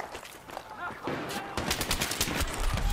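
Rapid automatic gunfire and bursts of shots crackle in a Battlefield 3 Aftermath Scavenger match, dense and loud, rising toward the end.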